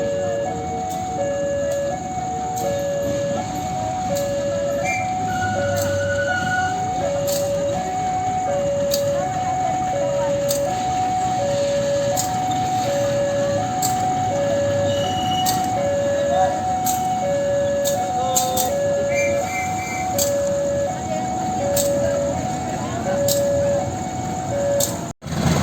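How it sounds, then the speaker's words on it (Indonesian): Diesel locomotive CC 201 92 11 shunting alone at the Jember depot, its engine droning steadily under a repeating tonal beeping, with people talking throughout. "Jadi ini hanya lokonya saja langsir ini."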